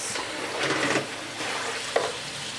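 Cotton yarn swished and rinsed in soapy water in a pan, a soft close sloshing and stirring with watery splashes and one brief sharper slap near the end.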